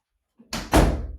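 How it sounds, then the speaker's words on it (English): An indoor door is pushed shut in one quick motion, a soft scrape followed by a loud, close thud that rings out briefly in the room, with no one speaking. "let me shut the door real quick"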